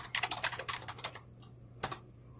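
Filename typed on a computer keyboard: a quick, close burst of crisp keystrokes for about a second, then a pause and one final key press, with a faint steady hum behind.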